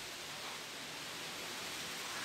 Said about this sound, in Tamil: காத்தடிக்குது